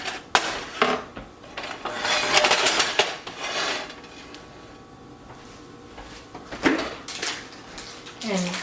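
A pan is handled in a home kitchen while preparing Alaskan pollock fish wraps, with clattering metal and wooden knocks in short bursts and a quieter stretch, under intermittent talk.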